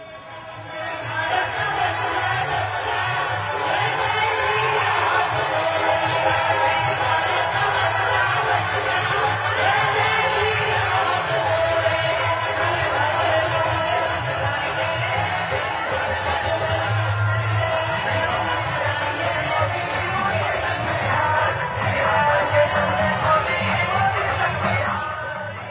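A large crowd at PM Modi's roadshow in Patna, Bihar, cheers and shouts in a steady, dense roar, with a voice talking over the noise throughout.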